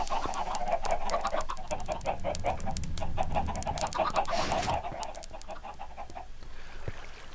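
Chickens in a video game chicken machine, a busy flock clucking in rapid overlapping bursts, loud and close, tapering off toward the end.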